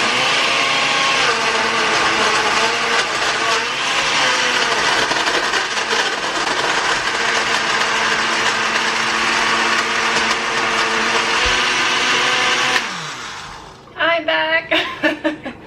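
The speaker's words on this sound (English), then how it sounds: "Blend it up." A kitchen blender runs loud and close for about thirteen seconds with a steady high motor whine and churning food, then cuts off, followed by brief rustling and a few clatters, with a voice talking over it.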